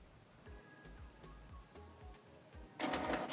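A Canon TS8750 inkjet printer prints a 4x6 color photo, its carriage and feed motors whirring and clicking in stepped bursts, ending in a louder rush of paper-feed noise.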